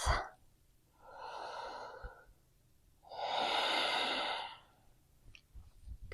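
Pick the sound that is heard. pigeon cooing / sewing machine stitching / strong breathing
strong breathing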